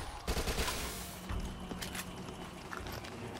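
An SMG fires in the zombie shooter Dead Nation as a quick rattle of shots, louder at the start and then thinning into scattered pops against game background noise.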